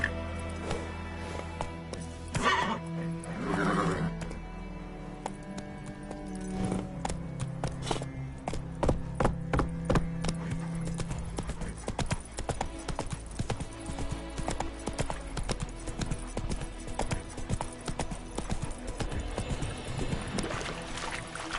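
Hooves of Roach, a horse in The Witcher 3: Wild Hunt, clop in a steady galloping rhythm over game music, with brief whinny-like calls early on; loud and close throughout.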